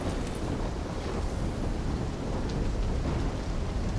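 A thunderstorm rages in the Black Ops 3 game, with a dense, continuous roar of rain and wind and low rumbling thunder, steady and fairly loud with no voices.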